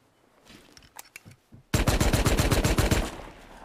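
Silenced gunfire in the survival game Rust: a few scattered faint shots, then a loud rapid burst of suppressed automatic fire lasting over a second before fading out, with no talk.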